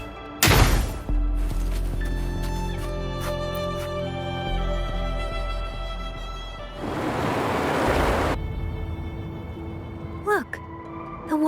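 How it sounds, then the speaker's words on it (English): Water receding in the Wuthering Waves video game: a steady broad surf-like rush, swelling louder for a few seconds midway over a backdrop of sustained musical tones, with a sharp burst at the start. "Look, the water is going down."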